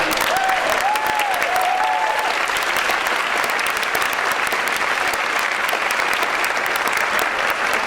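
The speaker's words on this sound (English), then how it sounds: "can we just have a round of applause for her?" Steady audience applause at a live-streamed event, dense and even clapping that holds at full strength for about eight seconds, with a few faint voices and whoops briefly rising above it near the start.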